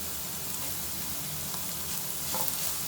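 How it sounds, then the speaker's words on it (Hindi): Potatoes fry in a pan with a continuous, dense sizzle, close and steady, while occasional faint scrapes of stirring break through the hiss. "फ्राई हो गई है। अब हम आलू इसमें शामिल कर देंगे।"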